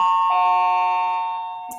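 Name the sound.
bell ringing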